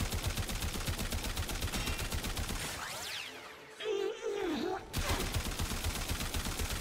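The AX-52 rifle in Warframe fires in rapid automatic bursts, loud and rhythmic, pausing midway while a voice and other game effects come through before the rattling fire resumes.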